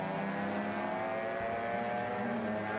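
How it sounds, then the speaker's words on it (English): Two Mini race cars running side by side toward turn 1 at a racing event, giving a steady continuous engine drone at moderate distance, with a faint rise in pitch partway through and no talking. "2 Minis side by side as they head towards turn 1"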